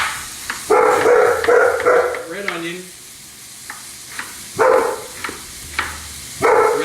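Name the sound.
dog barking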